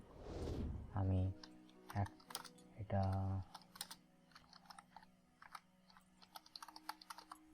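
Computer keyboard being typed on in Microsoft Word, a few clusters of keystrokes followed by scattered quieter clicks, faint and close, with someone talking briefly.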